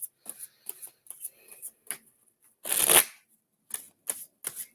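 Tarot cards being shuffled up close: a series of short, crisp riffles and taps, with one longer riffling burst in the middle, no talking.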